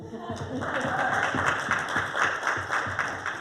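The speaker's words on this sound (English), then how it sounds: "Deserves applause, everybody." Steady audience applause during a women-in-leadership panel discussion at a hotel company event, moderately quiet clapping with a rhythmic pulse and some voices underneath.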